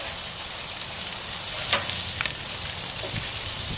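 Chicken thighs fry in a pan, a steady close-up hiss of hot fat crisping the skin, with a few soft pops and faint scrapes rising through the constant sizzle.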